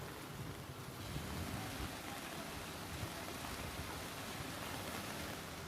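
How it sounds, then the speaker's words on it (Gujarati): Heavy overnight downpour over Jasdan town in Gujarat: a steady, uniform hiss of rain that is faint and distant and lasts the whole stretch, with no voices. "આજે જસદણ શહેરમાં મોડી રાતથી જ વરસાદ છે તે ધોધમાર વરસ્યો છે"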